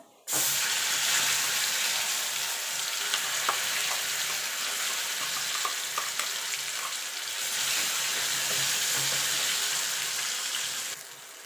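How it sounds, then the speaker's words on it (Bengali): Black cumin seeds frying in hot oil for a tempering, a loud, steady sizzle and hiss that starts abruptly and holds unbroken for the whole stretch. "ফোড়নে দিয়ে দেবো কালো জিরে এবার ফোড়নটা একটুখানি ভাজা ভাজা হলে"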